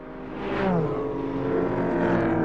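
A Nissan race car at the 1997 Le Mans 24 Hours blasts past with a loud, rising then falling engine roar, the Doppler sweep clear against steady track noise.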